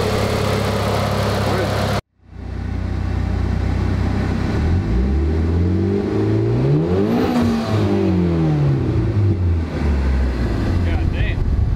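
A Mitsubishi Evo X with a loud aftermarket exhaust starts up and revs hard through repeated rising and falling sweeps, close and very loud, with people talking nearby.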